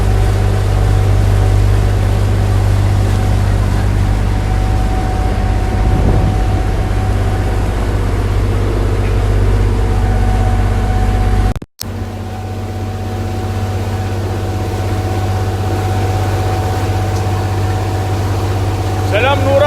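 A tour boat's engine drones steadily and loudly throughout on a boat tour at Halfeti, Urfa, Turkey, a constant low hum with a brief cut partway through.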